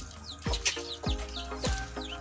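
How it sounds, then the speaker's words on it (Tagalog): Native chickens cluck softly nearby in short repeated calls, sheltering from drizzle, with a few faint chirps in the background. "Ito naman yung mga native na manok namin."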